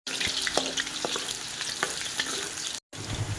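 Potatoes frying in hot oil for chicken afritada, a steady dense sizzle with occasional stirring clicks and scrapes, close and continuous, broken once by a brief gap before the crackle resumes.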